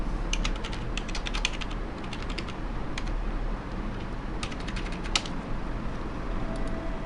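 Computer keyboard typing comes as bursts of light rapid key clicks over a steady background hum, with brief gaps between the flurries and no voices.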